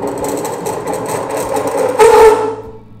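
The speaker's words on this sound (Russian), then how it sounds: "Наш ролик мы прижимаем к этому валу крутящемуся. Происходит трение." Friction test rig with a roller pressed against a rotating shaft, a steady mechanical whir and rattle that swells into a brief harsher grinding screech before tapering off.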